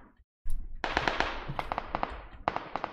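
Rapid bursts of video game gunfire crackle in quick clusters, sharp repeated shots with short gaps, fairly close and loud, with no talking.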